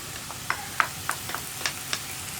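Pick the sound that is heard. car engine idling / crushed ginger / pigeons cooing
crushed ginger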